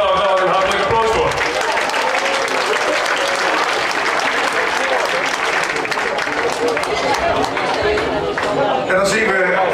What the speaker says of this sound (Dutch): Dus daar gaan we een hartelijk applaus voor.